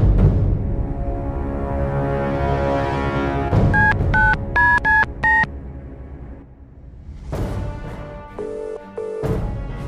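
A rapid run of five telephone keypad tones follows a low sustained rumble, with further electronic tones afterward.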